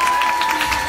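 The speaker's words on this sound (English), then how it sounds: "Can we give her a round of applause?" Conference audience breaks into brief, dense applause with some cheering, loud and continuous through the short moment.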